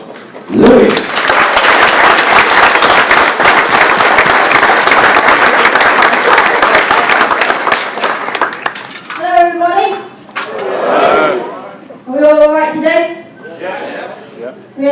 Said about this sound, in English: if we can give him a massive round of applause